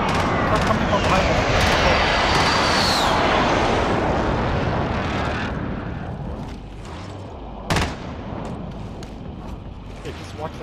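Airstrike aircraft roaring loudly overhead in a video game match on an airfield map, a broad rushing engine noise that fades after several seconds, followed by a sharp distant blast and quieter ambience.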